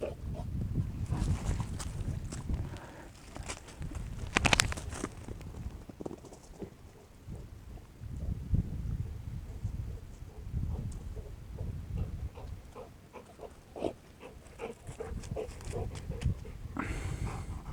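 A dog moves about close by, with scuffling, shuffling and breathing sounds in uneven bursts and a sharp knock near the middle, and no talking.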